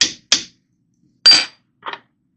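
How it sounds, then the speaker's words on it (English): Light metal taps on the bolt of a Glenfield Model 60 rifle, four sharp knocks spaced apart with short silences between, close and fairly loud, no talk. "just give the bolt some little taps to the rear"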